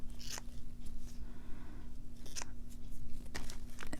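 Scissors snip through a beeswax-coated junk journal cover in a few separate close, crisp cuts spaced across a quiet room, with faint rustling between them.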